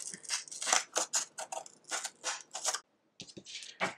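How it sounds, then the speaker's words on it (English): Quick snipping of scissors through paper, a steady run of short crisp cuts close up, a brief pause, then a few more snips. "take our scissors and cut the planter out"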